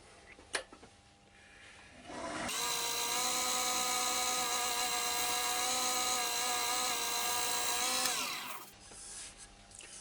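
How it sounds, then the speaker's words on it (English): A lathe spins up with a rising whine, holds a steady high tonal hum for several seconds while a scraper lightly smooths a small ash wood bowl, then winds down, with faint clicks before and after. "go over it very lightly with the scraper till you're happy with the finish"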